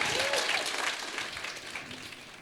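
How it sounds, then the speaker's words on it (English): Audience applause closing a student union sports officers election debate, a steady wash of many hands clapping that fades slightly over a couple of seconds, with no voices over it. "And can we get a round of applause"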